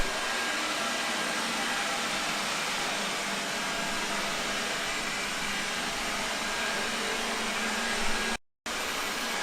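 A Xiaomi Roborock S50 robot vacuum cleaner runs with a steady, close whirring hum and broadband suction rush, unbroken until a sudden brief cutout near the end.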